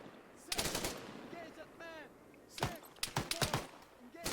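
Bursts of automatic rifle and machine-gun fire crackle in an Arma 3 PvP battle, with sharp volleys separated by short pauses and faint voices in between.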